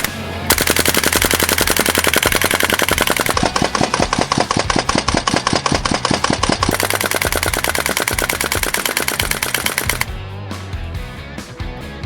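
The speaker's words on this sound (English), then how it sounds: "this is the GHK AK105, and right now they say on full auto" A GHK AK105 gas airsoft rifle fires long, rapid full-auto bursts at a trade show, a loud, fast, steady mechanical clatter of shots running for about ten seconds before stopping abruptly, with no talk over it.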